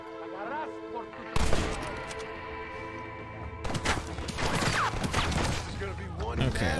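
Gunfire rattles in the video game Red Dead, with bursts and volleys of shots over a music bed and game sounds, growing denser and busier toward the end; a voice talks partway through.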